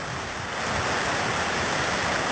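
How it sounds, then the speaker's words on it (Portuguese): The São Francisco river flowing past at Camalaú, a loud, steady rushing wash of water that fills the whole moment with no voices. "A água de São Francisco descendo aqui"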